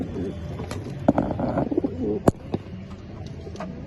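Pigeons coo steadily inside a pigeon loft, their low throaty calls overlapping close by, with a few sharp clicks and wing flutters mixed in. No one speaks.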